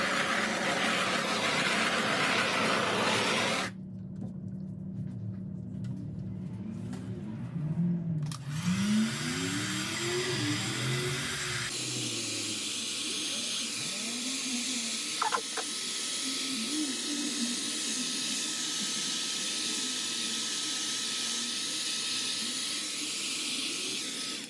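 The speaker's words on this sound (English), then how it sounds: "let's give us a torch and then we're gonna blow it back" A torch blows a steady hissing flame across poured epoxy resin, the rushing noise starting and stopping in separate bursts at close range.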